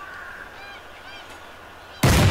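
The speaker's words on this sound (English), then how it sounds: "Here comes a flock of geese." Honking geese in the Cabela's Dangerous Hunts 2011 hunting game on PS3: a flock calls in repeated nasal honks at moderate distance for about two seconds, then a sudden loud blast cuts in at the end.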